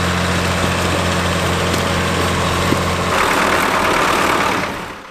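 A Ford TW20 tractor pulling a rare Howard Power Plow at a classic working event, its engine running loud and steady throughout with a continuous mechanical drone and no talk.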